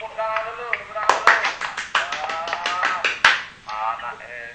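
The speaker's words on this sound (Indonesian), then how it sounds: "Tepuk tangan dulu, tepuk tangan dulu." Children in a classroom lesson clap their hands in a quick run of sharp, close claps, followed by one more clap, while voices chant and talk over them.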